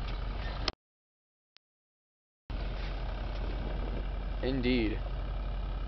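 A Ford 3600 tractor engine runs steadily while towing a 1970s Dodge Swinger motorhome with a 440 engine, a close, continuous rumble that cuts out briefly and then resumes, with a voice speaking over it.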